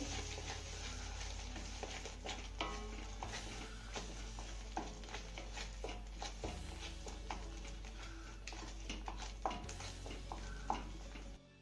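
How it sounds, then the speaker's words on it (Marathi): Kashmiri red chilli powder and garam masala sautéing in hot oil until the oil separates, for alu vadi: a steady close sizzle and fry with repeated stirring scrapes and light utensil taps throughout. "सगळे मसाले आपल्याला तेल सुटेपर्यंत चांगले परतून घ्यायचे"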